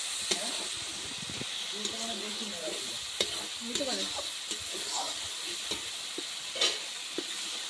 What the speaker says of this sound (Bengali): সামান্য জল দিয়ে কষিয়ে নেব।